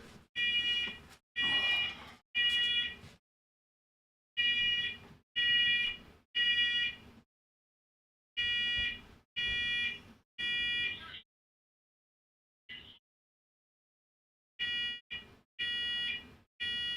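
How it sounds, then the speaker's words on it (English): A household smoke detector sounds in a house, loud shrill piercing beeps in regular bursts of three separated by pauses, repeating alone with no talk. "I've got the smoke detector going off in the house."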